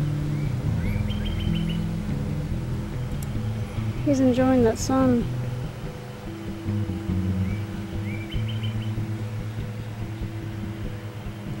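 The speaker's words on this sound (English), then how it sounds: "He's a happy bird." A pet bird sitting in the sun gives short, faint chirps in small clusters, set apart by several seconds, partly hidden under steady room hum while a person talks nearby.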